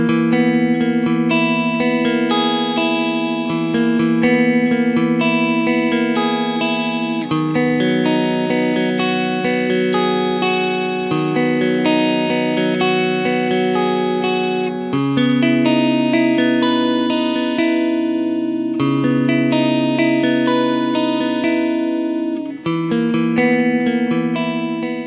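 An electric guitar through an Origin Effects Cali76 Stacked Edition compressor pedal plays sustained chords with an even, smoothed-out volume, notes ringing evenly with light effects and no talking.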